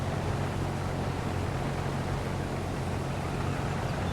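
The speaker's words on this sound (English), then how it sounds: "Yeah, tractor's definitely struggling a little bit" A small JCB tractor engine strains under load while filling in Farming Simulator 22, a dense, steady low drone that holds at an even level throughout.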